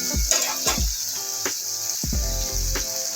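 Tomato and spice masala sizzling in a pan over low gas for a Lote fish jhal, a steady frying hiss broken by several stirring scrapes and soft clatters of the spoon.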